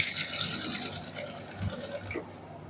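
A sewing machine stitches a fabric strip onto the hem of a kameez in a steady, close whirring run that stops abruptly near the end.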